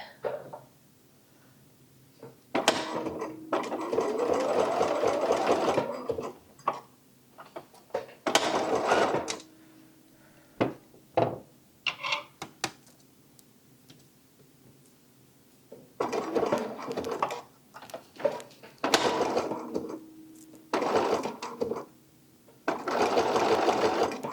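A domestic sewing machine set to zigzag stitches in several bursts of rapid mechanical whirring, each a few seconds long and separated by quiet pauses, while a fabric cloche hat is sewn.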